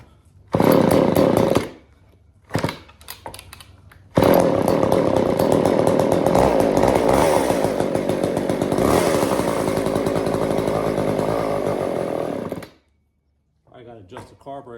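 A Poulan Pro S25 AV chainsaw engine fires briefly, then cuts out, catches again and runs steadily for several seconds before stopping, loud and close, with brief voices around it.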